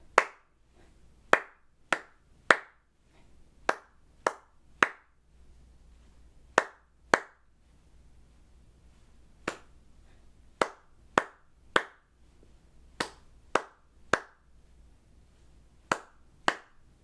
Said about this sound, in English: Now we're going to clap the rhythm